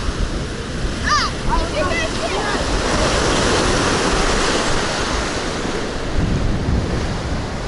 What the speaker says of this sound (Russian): Но волны очень-очень большие.